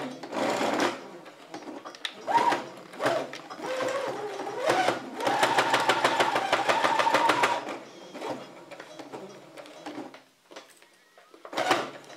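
A sewing machine stitches bias binding around all four sides of a plastic-coated pencil case, with a steady rapid run in the middle and shorter bursts before and after, close and clear with no talking.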